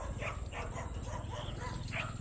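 Several dogs bark in short repeated bursts at a moderate distance, with a steady low background rumble beneath.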